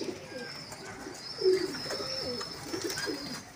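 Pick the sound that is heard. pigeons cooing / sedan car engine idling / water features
pigeons cooing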